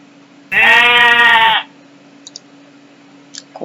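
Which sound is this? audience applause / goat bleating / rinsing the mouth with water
goat bleating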